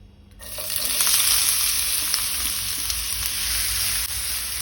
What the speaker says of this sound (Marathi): तेल तापले तशें तातूंत हांव कांदो घालतां।